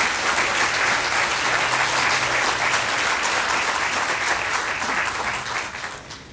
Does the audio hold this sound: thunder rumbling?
no